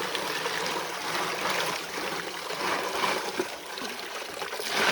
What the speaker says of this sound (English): you just slowly rock the box back and forth while you're pouring the water in.